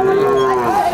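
A young native-breed bull calf, about eight or nine months old, gives one sustained, close moo that holds steady, then bends slightly in pitch near the end.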